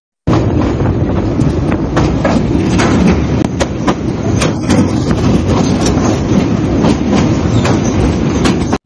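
A Bangladeshi local passenger train in poor condition runs near Bhairab station, giving a loud, steady rumble with continuous clickety-clack of wheels on rails throughout.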